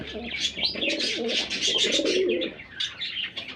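Pigeons at a pigeon farm coo and chirp close by, a continuous overlapping chorus of throaty calls and higher tweets, with no clear speech.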